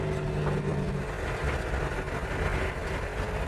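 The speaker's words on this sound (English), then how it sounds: "It's a car that runs on compressed air" A compressed-air car engine runs at a steady pace, with a continuous mechanical drone, a faint hum and a low rumble that stay level and close, and no voices.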